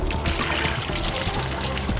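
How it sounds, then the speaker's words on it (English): Water pours down a small model wetland slope, a continuous close splashing trickle that runs the whole time without a break. "And now Ben's going to pour the water down the slope that represents"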